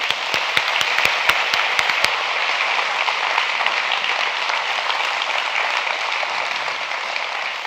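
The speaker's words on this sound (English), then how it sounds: "why don't you give them a round of applause" An audience applauds at a community event, with dense, steady clapping that holds at full strength and a few sharp, louder claps near the start.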